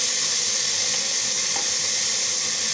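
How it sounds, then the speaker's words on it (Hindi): Vegetables fry in a pan for mixed vegetable soup, a steady dense sizzle with faint stirring, loud and close with no talk. "हमारी सब्ज़ियाँ हो गई हैं फ्राई"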